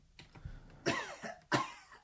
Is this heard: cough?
yes